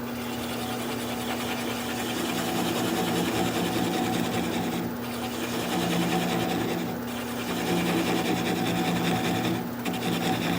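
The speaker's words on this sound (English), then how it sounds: "I'm just going to cut that tenon right off of there. But I'm going to do it at a little slower speed." Wood lathe turning a small sycamore bowl at slow speed while a gouge cuts the tenon off, a steady droning hum with scraping texture and a few brief dips, no talking.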